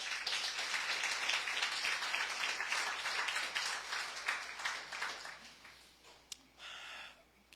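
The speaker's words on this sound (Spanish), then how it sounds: "¿Le puedes dar un aplauso a Dios, iglesia, en esta hora?" A church congregation applauds together in a sanctuary, dense steady clapping lasting several seconds before thinning out, heard at moderate distance with a few faint voices mixed in.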